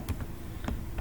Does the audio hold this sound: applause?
no